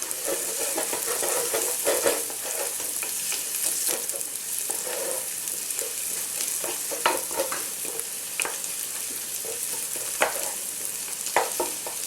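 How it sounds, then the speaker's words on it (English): Garlic browning with onions in a pan for keema makes a steady, even sizzle with scattered crackles and the occasional stir of a utensil. It is close and alone, with no talk. "I'm going to add our garlic. And just brown that for a little bit."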